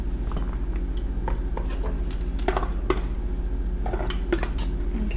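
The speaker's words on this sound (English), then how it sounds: "We're gonna add them to the bowl and stir them in." Chopped Reese's peanut butter cups being stirred into a bowl of mixture for a pie filling: soft repeated scraping with light clinks of a spoon against the bowl, close and steady, over a low hum and with no talking.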